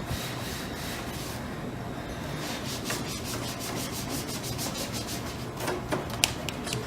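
A cloth dampened with Windex rubs along the vent grooves on top of a Sun Microsystems CRT monitor, making a soft, continuous scrubbing hiss that turns into quicker rhythmic strokes toward the end, close and quiet with no talk.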